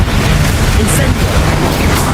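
An Incendio fire spell in Hogwarts Legacy, a loud roaring, whooshing burst of flame with a deep rumble throughout and brief sharp crackles, under talk.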